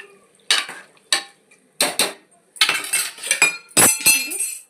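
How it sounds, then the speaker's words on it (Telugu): A spoon stirs chicken mixed with water in a metal pot, producing repeated scraping strokes and clinks in irregular bursts, close and fairly loud, with no speech. "వాటర్ పోసేసుకొని ఇప్పుడు మొత్తం కలిదిప్పుకోవాలన్నమాట."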